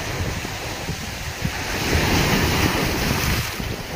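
Steady roar of surf with heavy wind buffeting the microphone, waves swelling and crashing continuously and loudly, no voices.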